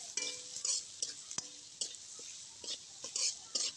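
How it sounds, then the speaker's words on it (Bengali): Cauliflower and potato bhaji being stirred in a pan after dried chili powder goes in, with intermittent scraping strokes and soft utensil clinks over a faint sizzle, fairly quiet and close. "দিয়ে এটাকে সুন্দর করে এখন আমরা একটু নাড়িয়ে নেব"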